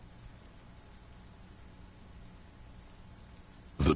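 Rain falls steadily in the Disco Elysium video game outside a door by the sea, a soft, even patter and hiss. A sudden loud burst cuts in at the very end.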